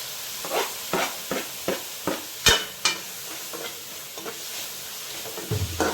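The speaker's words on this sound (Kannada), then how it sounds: "ಈಗ ಟೊಮೆಟೊ ಒಂದೆರಡು ಮೂರು ಟೊಮೆಟೊ ಹಾಕಿದ್ದೇನೆ" Tomatoes frying in a pan for palak dhal, with repeated rhythmic spatula scrapes and clacks over a soft, steady sizzle, close up and with no talking.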